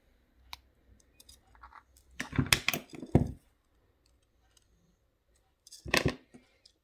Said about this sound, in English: I'm going to cut the little tail end from the beginning.